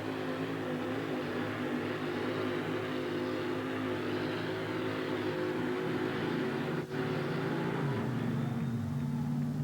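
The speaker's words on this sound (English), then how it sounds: "1968 Dodge truck with an all-aluminum Keith Black Hemi, very exotic and very big horsepower" A 1968 Dodge monster truck with an all-aluminum Keith Black Hemi engine roars steadily and loudly at a USHRA arena event in Oakland, its deep engine drone holding almost unbroken throughout.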